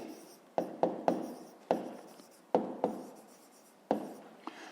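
A pen writes on paper during a fifth-grade math exercise, with brisk scratchy strokes coming in small clusters, close and quiet with no talking.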